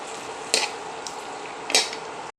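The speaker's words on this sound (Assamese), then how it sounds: "শাকখিনি দি এতিয়া আমি অকণমান লৰাই দিম" Lasia spinosa greens stirred into pork frying in a pan, a steady close sizzle with two sharp scrapes of the spatula against the pan.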